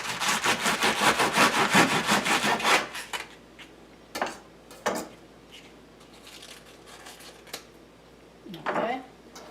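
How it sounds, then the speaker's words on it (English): A knife saws through the top of a whole artichoke in rapid rasping strokes, then a few separate scraping cuts and handling sounds follow more quietly. "We're going to cut the top off."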